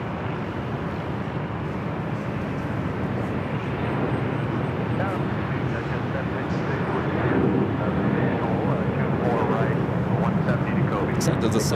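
An airliner lands on runway 24 left at LAX, its jet engines producing a steady roar that builds slightly as it nears, while a voice talks over it.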